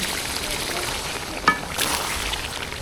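Chicken being stir-fried in a pan on a low flame for Bengali chicken kosha, a soft steady sizzle with a brief clatter of utensil on the pan midway.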